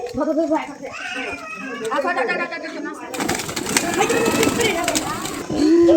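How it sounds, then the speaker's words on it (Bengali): Pigeons being fed at a temple coo and flutter nearby while people talk over them, and a burst of wing flapping and rustling rises in the second half. "পায়রা পাখি খাওয়াচ্ছে।"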